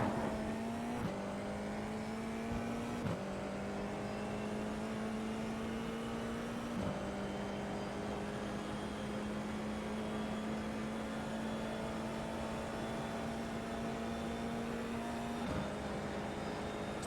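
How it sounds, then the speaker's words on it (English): An F4 race car in the iRacing simulator at Canadian Tire Motorsport Park holds a steady engine whine that climbs through the gears, dropping briefly at each upshift, loud and continuous with no talk. "And now we're getting back on the gas nice and early."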